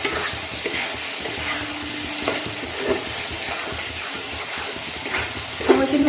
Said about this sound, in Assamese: মই কিন্তু হাই ফ্লেমতে মছলাখিনি ভাজিলোঁ।